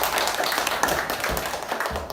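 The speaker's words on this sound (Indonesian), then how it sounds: "Kasih tepuk tangan yang meriah." Children in a classroom clapping together in a dense, steady patter of applause, close and continuous for a couple of seconds.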